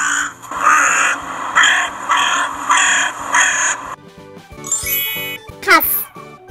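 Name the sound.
crow cawing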